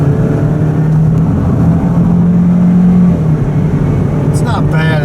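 A car accelerating on Interstate 70 near Columbia, heard from inside as a loud, steady engine drone whose pitch rises and holds, with brief rattling near the end.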